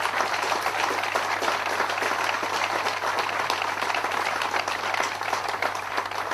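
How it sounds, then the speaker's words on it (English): An audience at a GAA senior football final applauds in steady, dense clapping that holds at an even level throughout, with no talk over it. "And a round of applause for all of them as well."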